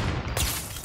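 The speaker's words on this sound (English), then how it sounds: "Gunshot." A single gunshot in a sniper video game cracks out about midway through, set against a steady bed of in-game background noise, moderately loud rather than close and booming.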